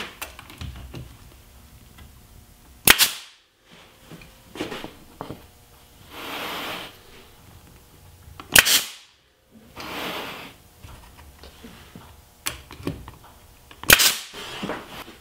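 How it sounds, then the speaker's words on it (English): A pneumatic nail gun drives 3/4 inch nails into a glued walnut and rosewood picture frame, giving four sharp loud cracks spaced several seconds apart, with quieter handling and shuffling sounds between them. "And I'm using 3/4 inch nails in my nail gun and a little wood glue to do that."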